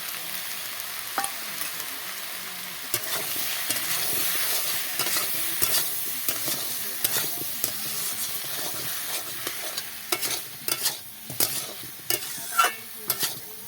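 Potol (pointed gourd) and potato being stirred and sautéed with cumin, coriander and dried red chilli in a pan, giving a steady close sizzle with repeated scraping strokes that grow sharper and more frequent toward the end, no talking.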